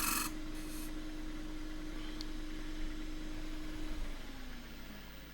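Lathe peeling cut on an endgrain wooden cup: a steady hissing rasp over the hum of the machine, continuous and close, with the motor tone dropping near the end.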